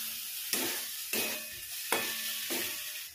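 A spoon stirring egg curry with fried onions in a pan, three or four regular scraping strokes over a constant soft sizzle, close and fairly quiet.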